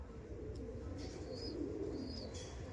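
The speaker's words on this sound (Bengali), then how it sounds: "দেখুন রাজুদার কাছে ফুলশিরা পিয়ার দেখাচ্ছি, খুবই ছটফটে পায়রা।" A restless Phulshira pigeon among others, giving continuous low, rolling coos that blend into a steady flock murmur, with a few faint higher chirps.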